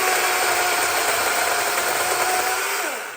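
A loud, steady electric motor whine of a DeWalt 12-inch cordless chainsaw running and cutting a branch, then winding down at the end.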